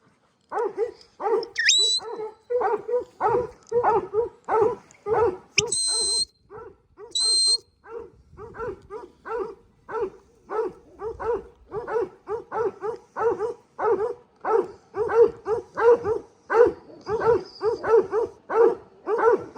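A farm dog in New Zealand barks steadily and rhythmically, loud and close, with dozens of evenly spaced barks and a few short high whistles mixed in near the start.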